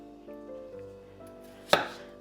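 A knife cuts raw potatoes into small cubes on a cutting board, with one sharp, close chop standing out after a quiet lead-in.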